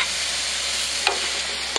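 Steak sizzles in a frying pan at breakfast, a dense, steady hiss up close, broken by a couple of small clinks near the end.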